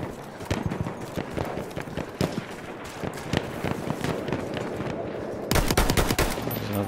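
Rapid gunfire in a first-person shooter video game, a dense run of sharp repeated shots with a brief louder burst near the end, close and continuous with no talking.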